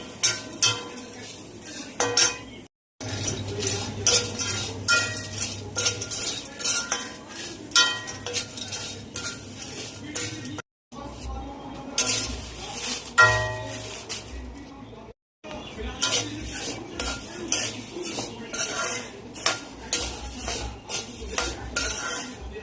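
Whole spices are dry-roasted in a pan, a spoon or spatula scraping and stirring in repeated bursts with metallic clinks and rattling seeds, broken by brief silent gaps.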